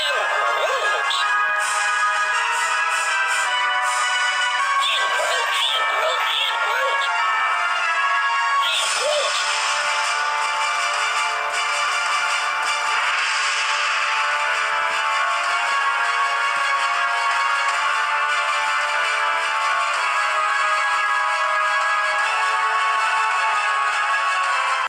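Music plays continuously from a phone speaker beside a Groovin Groot dancing plush, a steady song with no talking over it.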